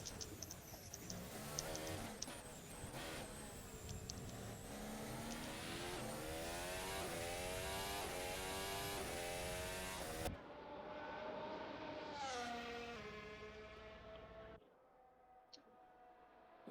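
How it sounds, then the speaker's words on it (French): An Aston Martin race car in a racing video game accelerates down the straight of the third sector at the Miami Grand Prix. The loud engine note climbs through repeated gear-change sweeps, then cuts to quieter, more distant engine passes. "Ici, on a Liam Godin, la Aston Martin sur la ligne droite du 3e secteur"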